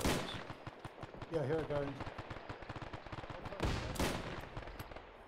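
Rapid gunfire in the military simulation game Arma 3, with bursts of automatic shots and sharper single reports while someone talks over the shooting.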